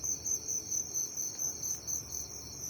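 Farmed crickets chirp in a breeding box, a dense shrill trilling that pulses in quick regular bursts, close and steady with no voices.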